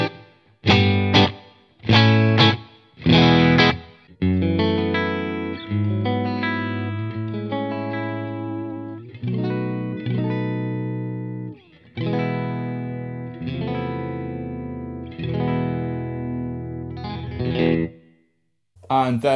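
A Schecter Nick Johnston electric guitar set to the fourth pickup position plays several sharp chord stabs, then a long melodic passage of sustained, effected notes. There is a brief silence near the end before a final strum.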